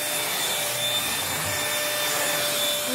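A bagless vacuum cleaner runs at home with a steady, loud, unbroken whine and airy roar, close to the microphone, with a faint rubbing scrape partway through and no talking.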